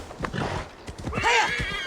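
A horse whinnies in Assassin's Creed Valhalla, a rising and falling neigh that rings out loud and close after a stretch of game noise and hoof-like thuds, with no talk over it.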